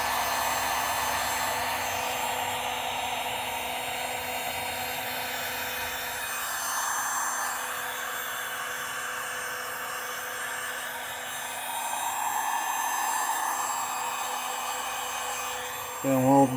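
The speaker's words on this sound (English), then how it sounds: "We'll heat him up real good with the heat gun." A heat gun blows a steady loud airy roar while heating lead crappie jigs, continuous at close range with a slight dip midway, then a brief clatter at the very end.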